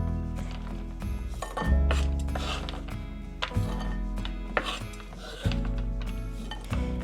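A knife chops white chocolate on a board in a home kitchen, giving a series of close, irregular knocks and clinks with quiet pauses between them.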